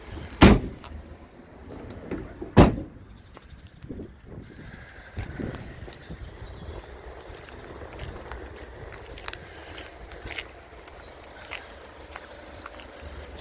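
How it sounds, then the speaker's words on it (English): A van's side door is handled with two sharp loud clunks near the start, followed by softer rattles, knocks and shuffling movement. "Side door."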